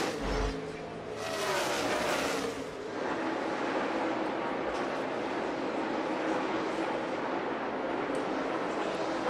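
NASCAR stock cars lap the reconfigured Texas track, their engines a loud, sustained roar that swells as a pack passes early on and then settles into a continuous drone, with commentators talking faintly over it.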